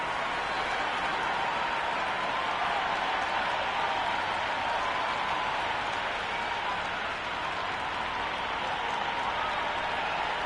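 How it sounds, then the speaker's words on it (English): Stadium crowd at a cricket match in the Cricket 2 video game, a dense continuous roar of cheering and applause filling the whole stretch at steady loudness. "already the crowd is up and about"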